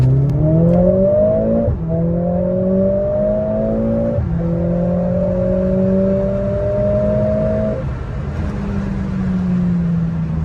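A Mercedes-AMG A45 S with 421 hp revs hard and accelerates through several gear changes, the engine note climbing, dropping briefly at each shift, then climbing again. Loud and close, heard from inside the car, with no talking.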